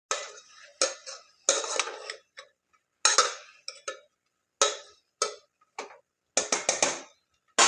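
Parval (pointed gourd) curry being stirred in a pan, a utensil scraping and knocking against the metal in short irregular bursts with brief pauses between strokes, close and fairly loud with no talking.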